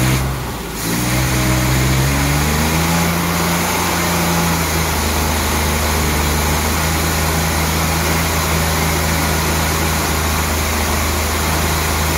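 A 1964 Triumph 2500 barn-find car engine runs steadily on choke, a continuous loud mid-pitched drone with a brief dip at the start, then a steady, slightly uneven idle with no one speaking.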